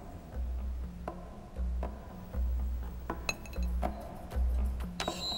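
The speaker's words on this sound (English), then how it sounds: "You pushed the glass." A glass slides across a board in a dark room, giving off scattered light clinks and ticks at irregular intervals over a low hum, close by and fairly quiet.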